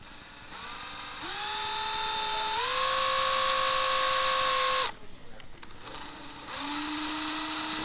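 A power drill bores into a book, whining up in pitch and running steadily, stops briefly with some rustling, then spins up again; close and loud, no talking.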